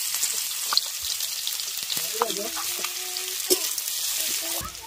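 Crushed dried chilli and garlic fry in hot oil with a steady crackling sizzle, dotted with sharper pops and the clink of a utensil stirring the pan, close and continuous, with faint speech in the background.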